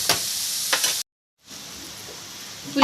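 Onions and green chillies sizzle gently in a pan, with soft stirring scrapes, a brief moment of silence, then a steady low frying hiss resuming.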